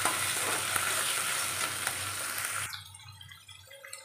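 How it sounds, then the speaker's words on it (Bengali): Prawns sizzling with onions in a hot pan for a bottle gourd and prawn curry, a loud steady fry that abruptly drops away to quiet after about two and a half seconds. "চিংড়ি মাছগুলো দিয়ে একটু ভাজা ভাজা করে নেব।"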